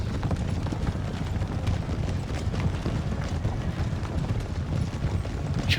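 Hanover Horse cavalry charge through woods in Napoleon Total War, a dense, continuous rumble of many hooves drumming at once, loud and close, with no gaps.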